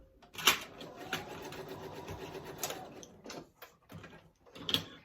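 A sewing machine stitches fabric for a tissue box cover, its motor whirring steadily with brief pauses and sharp clicks as the piece is guided under the needle, close and clear without talk.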